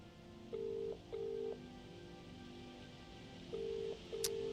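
Telephone ringing unanswered in a game, with two paired electronic ring bursts, a long gap, then another paired burst, steady and moderately quiet.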